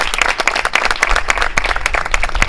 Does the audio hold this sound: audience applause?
yes